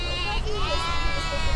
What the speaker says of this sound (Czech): Odměnou nám je zastavení u stáda ovcí